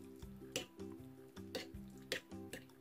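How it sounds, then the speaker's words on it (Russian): Spoon stirring grated cucumber into tzatziki sauce in a bowl, a quiet rhythmic scraping and clinking with regular strokes about every half second, close and soft with steady background music. "Все перемешиваю"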